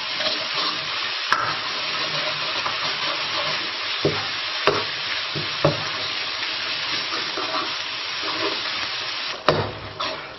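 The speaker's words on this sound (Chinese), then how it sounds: "把牛肉的水汽炒干" Beef sizzles and crackles steadily in a hot wok over medium-low heat while being stir-fried to drive off its moisture, with the spatula scraping and knocking against the pan at irregular moments.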